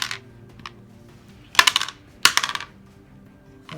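Dice rolled for a Deadzone tabletop wargame: two bursts of clattering, rattling impacts on a hard surface, close and fairly loud, separated by quiet.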